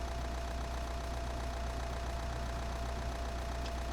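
Rough, old-style diesel truck engine in Euro Truck Simulator 2 droning at a steady idle-like rumble, faint and continuous with a low knocking texture and no voices.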